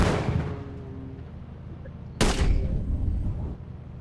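A single loud sniper rifle shot fired in a video game cracks sharply midway and then booms into a rumbling decay, following a stretch of low background noise.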